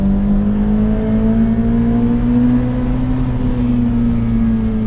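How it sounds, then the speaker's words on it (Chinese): A Ferrari F8 Spider's twin-turbo V8 drones loudly in manual mode, its engine note holding steady and rising slightly as revs climb, close and continuous with no talk. "这个 V8 Twin Turbo 的声浪的确是没有经典的那个 NA8 那么高亢，但是我觉得可以"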